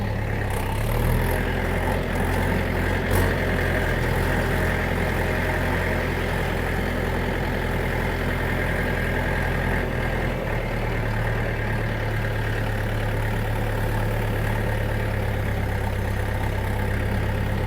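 A DTZ 5404 diesel tractor engine idles with a steady low rumble throughout, with faint clunks of gear changes over the constant drone.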